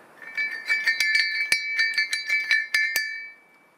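Old metal harness bell dug up near a log cabin, shaken by hand in a quick uneven series of bright ringing jingles with short sustains, close and clear, fading out at the end.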